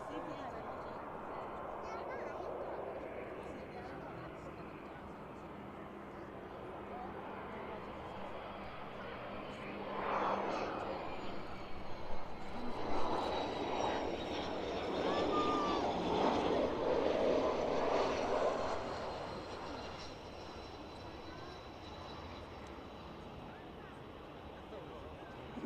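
An airliner touching down on runway 09 at East Midlands Airport in the evening, a faint distant jet roar that swells in the middle and then fades, with outdoor wind and a voice talking over it.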